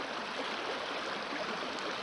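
Water rushing over a small riffle at the head of a creek near Clinton Lake in Lawrence, Kansas, a steady, close, broadband wash with no break or talk.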